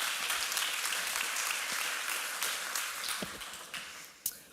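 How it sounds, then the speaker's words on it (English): Applause from a conference audience at Devopsdays Eindhoven 2023 as a speaker is welcomed, a steady wash of clapping heard from a distance, tapering off with a few last louder claps near the end. "Let's give her a round of applause."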